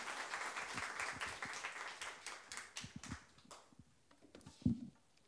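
Congregation applause at a Sunday youth worship service welcoming a teacher to the front, fairly faint clapping that thins out into scattered claps and fades, with a low thud near the end.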